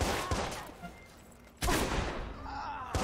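Gunfire in the video game Watch Dogs: a sharp blast near the start, then a heavy burst around the midpoint and another near the end, loud against quieter background stretches.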